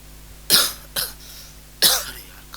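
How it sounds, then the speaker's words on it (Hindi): Three sharp coughs from one person, close to the microphone, two in quick succession then a third after a short pause, with no talk. "अरे यार खांसी"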